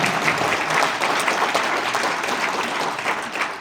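Steady applause from a crowd at a political party founding convention, dense continuous clapping at an even level throughout with no voices standing out.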